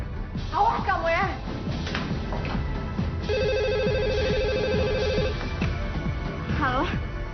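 A mobile phone ringtone plays a repeating electronic melody for about two seconds in the middle of a noisy scene, with people talking over it before and after.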